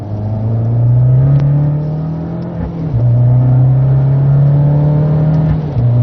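Abarth 595 Competizione from 2016, its engine revving loudly up and down in two sustained pulls with a brief drop between them, heard up close in freezing weather with no talk over it.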